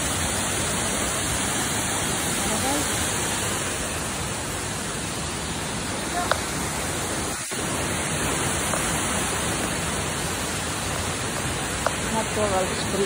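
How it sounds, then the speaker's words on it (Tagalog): A natural spring waterfall, a steady, dense rush of falling water that fills the whole clip, with a faint voice and a brief knock barely audible beneath it. "Natural spring falls."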